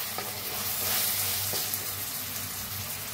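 Tomatoes and onions fry together in a pan, a constant close sizzle with faint scraping from stirring and no voices.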